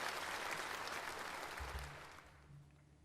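A large hall of members at a CPPCC National Committee session in Beijing breaks into sustained, dense applause that fades gradually toward the end, heard at a distance and alone.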